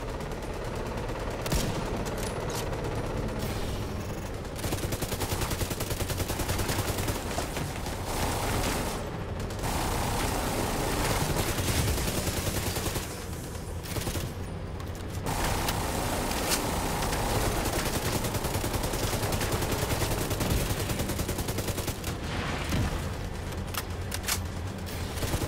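Sustained gunfire in Tom Clancy's The Division 2 during a drone attack, loud continuous automatic bursts with brief gaps and dense overlapping shots throughout, with no voices.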